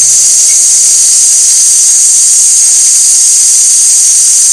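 Onions, ginger and green chilies sauté in a pan for bread poha, giving a loud, constant high sizzle and hiss that runs unbroken throughout.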